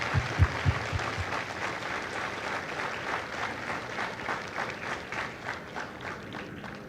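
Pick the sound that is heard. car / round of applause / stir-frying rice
round of applause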